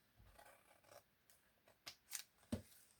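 A few quiet snips of scissors cutting through paper while crafting a junk journal page, with soft rustling handling noises between three short cuts near the end.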